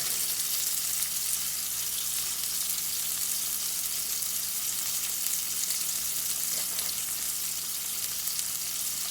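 Steak searing in beef tallow in a hot pan, a loud, dense, continuous sizzle close up with no talking.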